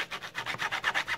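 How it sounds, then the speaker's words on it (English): A Swan SW1248M trumpet slide being lapped into its mouthpiece by hand, a steady back-and-forth metallic rubbing and grinding in quick even strokes, close and alone. "we're done with the lapping of the slide onto the mouthpiece"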